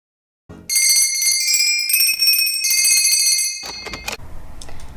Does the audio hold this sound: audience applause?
no